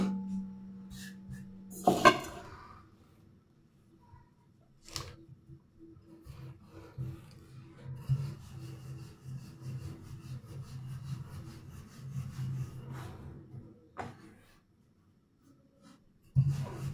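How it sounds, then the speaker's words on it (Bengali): Flour dough kneaded by hand, heard as soft repeated rubbing and pressing strokes with a rough, scraping texture, faint and close, and a brief clatter of utensils early on. "না অন্যদিকে আটা মাখি।"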